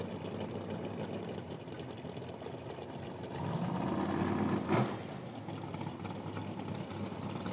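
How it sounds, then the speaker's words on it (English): A deep, throaty Mopar drag-racing engine idles at a drag strip, heard fairly faint and steady with a brief swell and sharp blip near the end. "Wow, it's got a really nice tone to it, eh? Deep and throaty. Yeah. Sounds like a Mopar."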